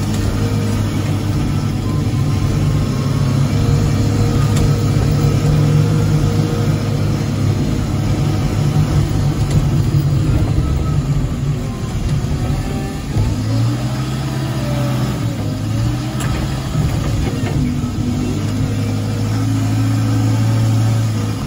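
A ZW100 snow removal wheel loader with a 3.6-liter diesel engine and spiked tires runs steadily, its loud mid-pitched drone rising and easing slightly as the speed changes, with no talking.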